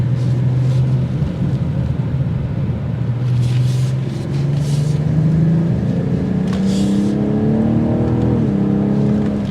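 A 2024 BMW 840i Coupe accelerating hard on a test drive, its engine note rising steadily through the gears in a loud, continuous rumbling drone with climbing pitch, no talking over it.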